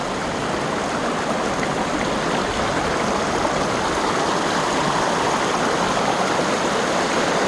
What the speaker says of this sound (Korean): 물소리가 너무나 듣기 좋습니다.